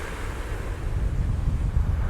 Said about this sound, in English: the winds are 13 mile an hour with 20 mile an hour gusts, and this is what it look like